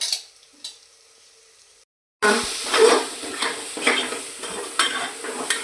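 Ginger-garlic paste is stirred in hot oil in a pan. After a short silence, a loud sizzle and frying hiss starts up suddenly and keeps going, with scraping spoon strokes against the pan.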